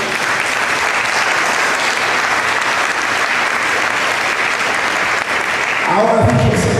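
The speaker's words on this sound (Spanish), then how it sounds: "Denle un aplauso a Jesús." A church congregation applauds steadily for several seconds, dense sustained clapping filling the room, with a voice starting to speak as the applause trails off at the end.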